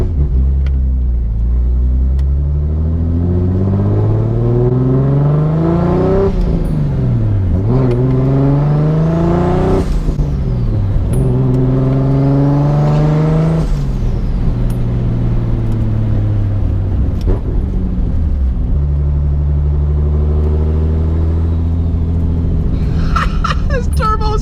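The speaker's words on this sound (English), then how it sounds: "This turbo is crazy. It's so talkative." A self-built Nissan 240SX S14 with a turbocharged RB26/30 engine accelerates through repeated gear pulls, revs climbing and dropping in loud cycles from inside the car, with turbo whistle and hiss between shifts.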